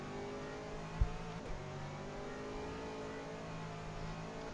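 A GT3 race car on the Silverstone circuit with its engine droning steadily under power, faint and constant, with a brief knock near the start.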